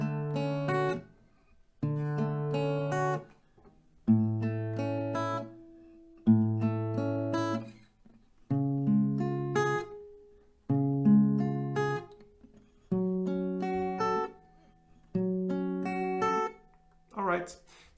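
An acoustic guitar plays one round of the melody of a song as a series of separate chord-like phrases with short pauses between them, close and clean, with no talking.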